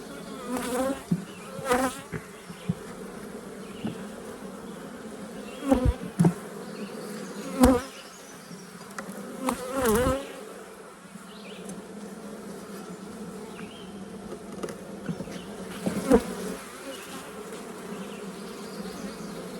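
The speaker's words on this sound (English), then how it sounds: "It looks like now very full-on bee production mode." Honey bees buzz at a busy hive in a steady, faint drone, with individual bees zipping past close by in brief louder swells now and then.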